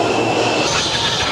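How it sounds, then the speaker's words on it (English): An Amsterdam metro train rumbles along on its rails with a steady, loud, close roar, faint wheel squeal and rattling carriage noise throughout, no voices. "It's time to get on the metro now."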